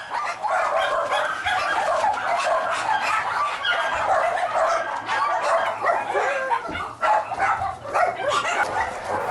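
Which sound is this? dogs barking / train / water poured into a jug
dogs barking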